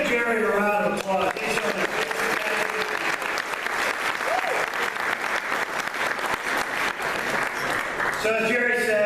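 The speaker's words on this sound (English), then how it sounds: "Let's give Jerry a round of applause." An audience at a political summer dinner applauds with sustained clapping that fills the room, close and dense. Voices can be heard near the start and end of the clapping.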